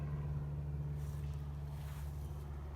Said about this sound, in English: Bad muffler.